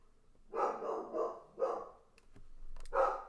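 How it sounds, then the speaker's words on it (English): A dog barks several times in quick succession, fairly close, with short pauses between the barks and no talking. "Oh, and the dog's barking again."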